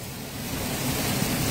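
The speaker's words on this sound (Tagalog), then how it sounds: "Basta ngayon, malakas ang ulan." Heavy rain pouring steadily, a dense, even broadband hiss with a low rumble that holds without pause, close and loud, with no voices.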